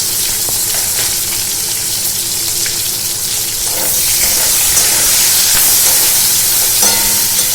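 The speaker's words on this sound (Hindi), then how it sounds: "इसको कलर चेंज होने तक फ्राई करते हैं" Chopped onions added to hot oil with a spoonful of cumin seeds fry in a loud, continuous close-up sizzle for a prawn masala, with a few faint utensil taps under the hiss.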